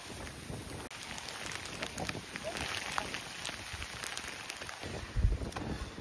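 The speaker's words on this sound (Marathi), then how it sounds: "बरा तरी पाऊस चालू झाला" Steady rain falls around hikers on a misty monsoon trek up to a hill fort, a soft continuous patter mixed with wind rumble and a few close knocks.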